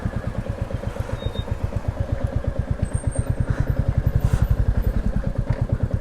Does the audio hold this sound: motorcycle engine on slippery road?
yes